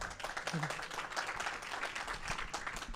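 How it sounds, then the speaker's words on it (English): An audience claps steadily as someone is welcomed onto the stage at a talk, a dense, even patter with a voice speaking over the applause. "Everybody give Scott a round of applause."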